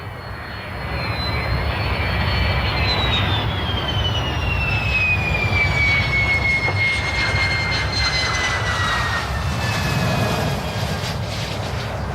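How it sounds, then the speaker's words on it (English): IAI Lavi multi-role jet fighter in flight, a loud sustained jet engine roar with a whining tone that slowly falls in pitch as it passes, steady and continuous with no voices. "the Lavi is a multi-role aircraft, as good in low-level missions as in intercept missions"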